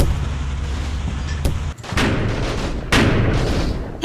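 Mortar rounds shelling German foxhole positions in the Combat Mission Fortress Italy war game, with several heavy booming blasts over a continuous rumbling battlefield din. Two of the blasts hit sharply at about the midpoint and near the end.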